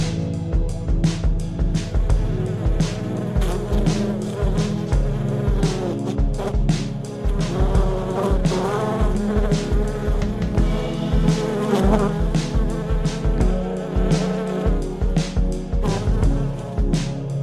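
A bee trapped in a lace curtain gives a loud, steady buzzing drone that runs unbroken and close for the whole stretch, with no voices.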